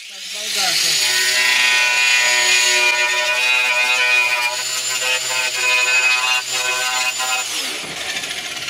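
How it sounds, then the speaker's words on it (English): An angle grinder cuts away rusted metal from a vehicle body with a loud, steady, high-pitched whine that holds for several seconds before spinning down. "We'll remove it with an angle grinder, and that's it."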